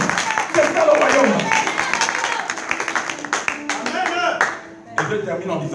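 A church congregation clapping and applauding loudly, with people shouting and cheering over the hands. The applause ebbs briefly near the end and then swells again.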